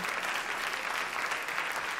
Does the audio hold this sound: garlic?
no